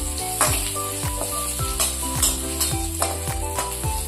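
Spices and broken green chilies temper in hot oil in a Bengali home kitchen, giving a steady bright sizzle punctuated by regular clinks and scrapes of stirring in the pan.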